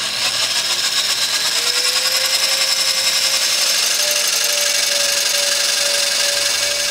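A power drill grinds steadily and loudly close by, drilling into metal at an awkward angle on a 2000 Pontiac Montana's exhaust manifold, its whine rising slightly in pitch as it bores through, with no speech.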